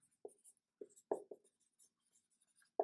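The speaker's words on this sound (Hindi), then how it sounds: "तो यहां पे मैं लिख देता हूं" Chalk or marker strokes on a classroom board during a chemistry lesson: several short, scratchy taps and scrapes in quick bursts, fairly quiet and heard alone.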